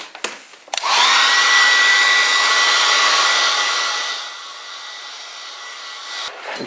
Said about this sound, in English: when I use a hairdryer, that the paint becomes lighter